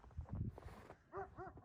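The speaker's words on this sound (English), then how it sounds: "Who are you barking at?" A dog barks twice in quick succession near the end, clear and fairly close, after a stretch of low rumbling noise and faint movement sounds outdoors by a truck.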